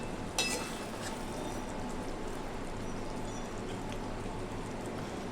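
Fried okra sizzling steadily in a pan over a low gas flame, a soft continuous frying hiss with one small clink of stirring near the start.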